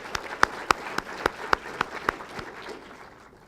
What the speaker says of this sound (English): So let's give them a round of applause for making this place beautiful.